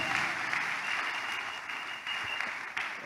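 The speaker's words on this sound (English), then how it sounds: "If you are clapping, clap better to the glory of God." A church congregation claps continuously, the applause sounding moderately distant and fairly soft as a dense, even patter with no talking over it.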